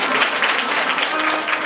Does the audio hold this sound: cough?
no